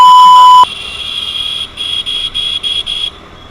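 Vehicle horn sounding on the Khandala ghat road near Lonavala: a steady loud tone, then a string of short, rapid electronic beeping pulses, close and clear, with no talk.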